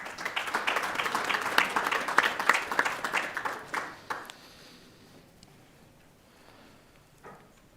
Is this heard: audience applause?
yes